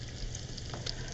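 Onions and celery sizzle in hot bacon fat inside a pot while a clam chowder is prepared, a steady close hiss and crackle with a faint stir.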